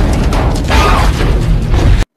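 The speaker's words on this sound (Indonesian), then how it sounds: "Saat mereka pergi, tiba-tiba mobil yang penuh dengan uang itu meledak." Car full of money exploding in a film scene, a loud, sustained burst of blast and debris noise filling the whole moment before cutting off sharply.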